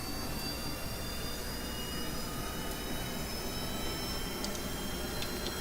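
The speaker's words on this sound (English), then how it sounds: "when I increase throttle, vertical engines should be active on all" Jet engines on vertical-lift micro Harrier aircraft in Kerbal Space Program give a faint, steady whooshing roar with a thin high whine, running unbroken throughout.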